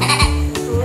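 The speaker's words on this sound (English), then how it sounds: "Cortez, he loves the billy goats." A billy goat at a zoo lets out one short, loud, close bleat, brief and alone.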